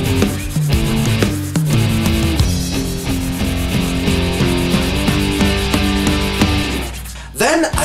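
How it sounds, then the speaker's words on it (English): Machined Harley-Davidson footboards being sanded by hand with a medium sponge, close rhythmic rubbing strokes, with music playing loudly over the scraping. "I first sand them down with a medium sponge to remove all debris from machining"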